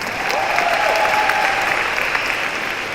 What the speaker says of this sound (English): Bill Cosby, round of applause for that